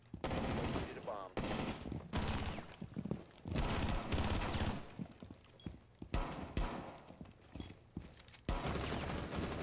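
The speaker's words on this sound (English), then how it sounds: "this is a crazy gunfight, is it not?" Rapid bursts of automatic gunfire and single shots in a close-quarters gunfight in Rainbow Six Siege, loud and dense, sometimes in sustained volleys, with game effects layered in.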